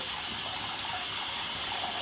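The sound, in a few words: water running from a tap to warm it up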